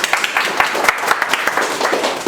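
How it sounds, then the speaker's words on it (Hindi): An audience in a classroom lecture claps briefly and unevenly, with scattered close hand claps over a few seconds. "एक बार एमडी सर के लिए जोरदार ताली बजाइए।"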